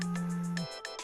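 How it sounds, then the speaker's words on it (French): A telephone ringtone: a sustained electronic tone, then short repeated chirping pulses, clear and alone with no voices. "Il n'avait pas encore trouvé la bonne idée lorsque son téléphone sonna."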